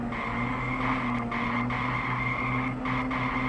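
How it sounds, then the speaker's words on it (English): A car in the video game Ice Scream drives and skids, its engine droning steadily with a continuous tire squeal held loud and close throughout. "Get in the car, go car, and then this is why it's hard to drive."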